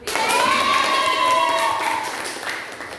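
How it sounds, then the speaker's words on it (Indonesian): An economics class claps for the winning group, a short burst of clapping close by while a high-pitched tone or whistle sounds over it, with faint voices in the room. "Tepuk tangan dulu."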